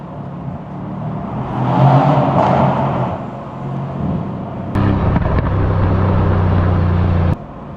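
A Mercedes-AMG C63 S V8 in manual mode revs inside a tunnel: a loud engine note swells, eases, then settles into a steady drone with a sharp crack before it cuts off abruptly.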